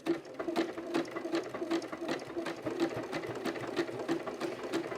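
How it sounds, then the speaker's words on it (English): A sewing machine runs a slow decorative chain stitch on a headband, its needle ticking in a steady, even rhythm, close and moderately loud, with no talking. "So now I'm just going to stitch, and this takes a lot longer than normal because it is decorative."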